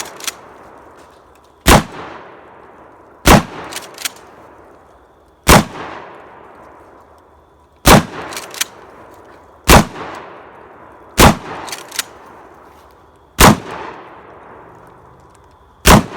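Sharp gunshots at an outdoor shooting range, Desert Eagle pistols and shotguns among the guns fired: about eight loud, irregularly spaced reports with ringing decay and a few fainter clanks between.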